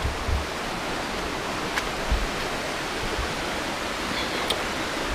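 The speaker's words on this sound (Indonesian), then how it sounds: "Kita harus nyebrang sungai itu teman-teman." River stream flowing through a valley, a steady broadband rushing of water, close and even, with a few faint clicks and no voices.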